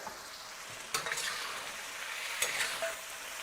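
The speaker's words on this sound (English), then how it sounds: "Stir it here and there." Chicken stir fry stirred in a hot pan, a steady sizzle broken by two sharp utensil scrapes and clinks against the pan, close and moderately loud with no voices.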